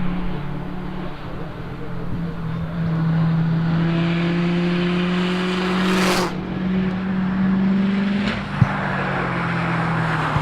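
A 2015 Subaru WRX STI race car climbs a hillclimb course, its engine droning loudly and rising in pitch through the gears from a moderate distance, with a commentator talking over the sound.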